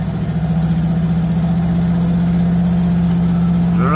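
A 1968 Buick Riviera V8 running under cruise control, heard as a loud, steady low engine drone with a constant hum and slight vibration, rising only subtly in pitch toward the end.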